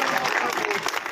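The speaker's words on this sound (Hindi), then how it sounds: "एक बार अपने लिए तालियां बजा लीजिए" Rally crowd at a BJP urban farmers' conference applauding, a brief dense burst of clapping with a voice talking over it.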